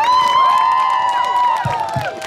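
A crowd cheers and whoops for a children's band at a Christmas town concert in Žilina, loud and continuous over a held, sliding musical tone, with scattered clapping beneath.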